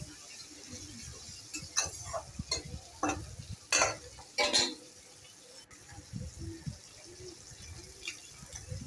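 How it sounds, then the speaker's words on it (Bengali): Prawns fry in a pan while a spatula stirs them, giving a steady sizzle broken by repeated scraping strokes, close and clear, with brief metal clinks and no talk. "চিংড়ি মাছটা ভাজাও হয়ে যাবে এবং সেদ্ধও হয়ে যাবে"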